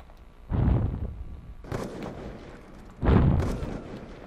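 Sniper rifle fire in a video game: three heavy, booming shots spaced a second or two apart, each with a long rumbling tail, with no talking.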